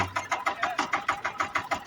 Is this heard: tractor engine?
yes